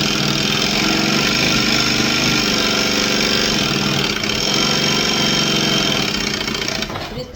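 A sewing machine stitches fabric at high speed, its motor giving a steady, dense mechanical whir with a fast repeating needle rhythm. It runs alone, close and loud, and eases off slightly near the end.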